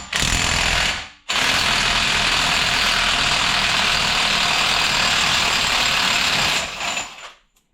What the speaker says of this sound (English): We'll take this nut off the outside. Sometimes you can get it with impact.